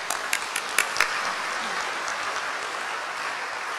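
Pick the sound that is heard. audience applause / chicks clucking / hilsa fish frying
audience applause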